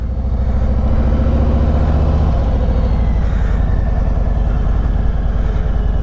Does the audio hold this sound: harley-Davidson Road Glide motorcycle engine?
yes